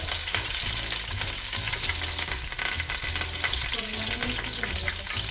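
Curry leaves hiss and crackle in hot oil for mutton biryani, a loud, steady sizzle with low bubbling and occasional spatters, heard close and with no talking.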